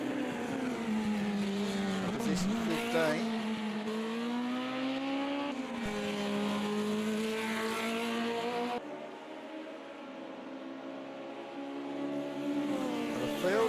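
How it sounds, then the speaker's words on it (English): Historic Formula Junior race cars at Imola battle wheel to wheel, loud engines revving and shifting through gears with brief tire squeal as they pass, while a commentator talks over the sustained roar. "We've got the canary yellow and the lime yellow cars battling it out."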